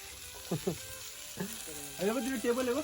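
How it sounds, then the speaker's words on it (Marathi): Food fries in a pan at a farmhouse party, a steady hissing sizzle running throughout while voices talk and call out nearby. "मस्त आहे की आता कौल प्राय चालू आहे"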